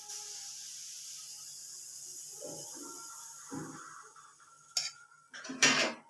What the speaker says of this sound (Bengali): সাথে সাথে ঢাকনাটা দিয়ে দিলাম।